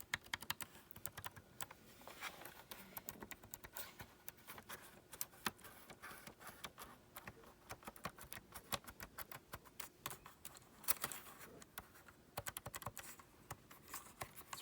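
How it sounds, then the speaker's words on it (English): Someone types on a quiet Phantom Lapboard keyboard, making a soft, continuous patter of light key clicks with no talking. "I mean, it's a quiet keyboard."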